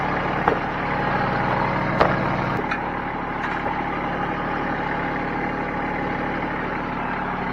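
Tractor engine idling steadily while the tractor rolls on a gravel job, a constant low diesel drone with a couple of sharp knocks, no talk.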